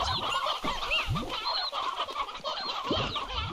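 Chickens cluck and chatter in the video game Slime Rancher 2, a busy stream of overlapping short calls at moderate level with no talking.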